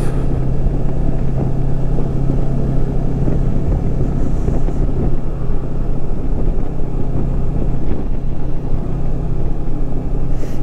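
Motorcycle climbing a 9% mountain road gradient, its engine a steady low drone under heavy wind buffeting across the whole ride, with no one speaking.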